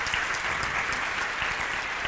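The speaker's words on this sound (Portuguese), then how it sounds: "Queria que vocês dessem uma salva de palmas para eles aí." A church congregation claps together, a dense, steady wash of applause from many hands that fills the short stretch without pause.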